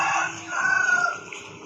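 A rooster crows once, fairly close, a rising-then-falling call heard alone in a quiet outdoor setting.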